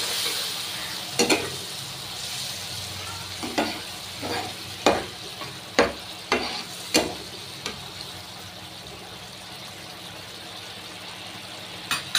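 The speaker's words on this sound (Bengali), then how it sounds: "এবার আমি এর মধ্যে অল্প জল দেব, দিয়ে মশলাটাকে এবার ভালোভাবে কষাবো।" Spice paste for chara pona fish jhal being fried in a pan with a little water, a low steady sizzle broken by irregular spatula scrapes and taps, close by, with no voices.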